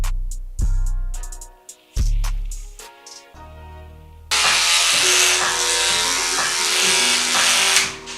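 A Wahl Designer hair clipper buzzes steadily and loudly during a drop skin fade haircut, running continuously for several seconds after a few short starts and stops.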